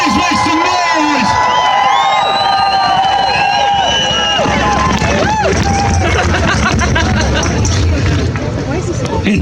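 A crowd at an outdoor freedom rally in Stratford, Ontario, against lockdowns, cheers, whoops and whistles loudly and continuously, a dense babble of shouts and applause with piercing whistles rising over the roar.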